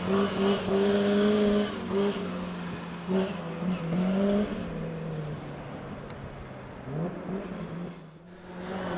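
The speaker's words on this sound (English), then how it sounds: "Bob Gibbons is pushing hard in the Cortina Mark II and has the car sliding around on the ice in Kyle." A Ford Cortina Mark II rally car slides around on ice during a historic stage rally, its engine revving hard and rising and falling in pitch as the car passes, with faint tire noise and fading toward the end.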